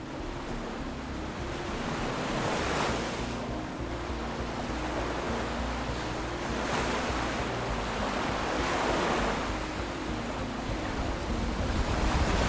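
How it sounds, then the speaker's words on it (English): Open Pacific Ocean swell and wind off Alaska's coast, a steady loud rush of surf and gusting air with slow surges, no voices. "we started to feel the steady roll of the open Pacific. Ahead lay a wild, restless stretch of ocean."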